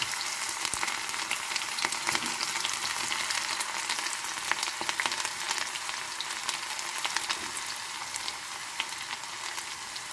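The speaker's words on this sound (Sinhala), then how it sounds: "කපාගත්තු ලුණු ටික එකතු කරගන්නවා" Chopped onions land in hot oil with spluttering mustard seeds and fry with a steady, bright sizzle and occasional crackles, close and continuous with no talking.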